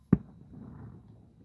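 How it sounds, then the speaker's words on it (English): A single sharp firework bang goes off at night, followed by a low rumbling echo that fades over about a second. "Listen to those. Those are not small fireworks."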